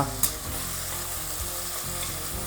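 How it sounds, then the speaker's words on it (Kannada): Chopped tomatoes with mint frying in a pan for kushka rice: a brief, continuous close sizzle with a faint stir at the start, no voices. "ಟೊಮೆಟೊನ ಚೆನ್ನಾಗಿ ಫ್ರೈ ಮಾಡ್ಕೊಳ್ಳೋಣ"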